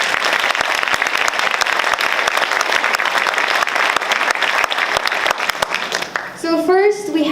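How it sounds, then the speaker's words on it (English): An audience applauds at the Blue Vision Summit ocean conference opening ceremony: dense, steady clapping fills a large room for about six seconds, then fades as a voice starts speaking. "please, a huge round of applause for all the young people that are in this room"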